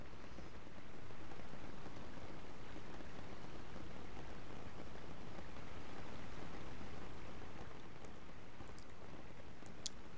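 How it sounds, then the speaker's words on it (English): Steady rain falls in an even, unbroken hiss for the whole stretch, soft and constant with no voices over it. "It doesn't really look like this rain is going to let up anytime soon"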